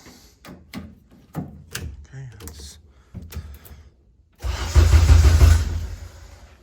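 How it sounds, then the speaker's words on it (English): Some voices and clicking noises, then a loud, rough burst of a K-swapped Honda Civic race car engine cranking over for a second or two before it tapers off. "we were able to make that thing crank over"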